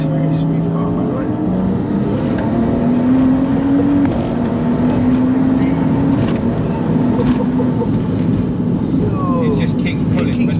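A 570bhp BMW 135i accelerates hard, its engine droning loud and steady with a rising pitch under the road noise, and a voice talks over it.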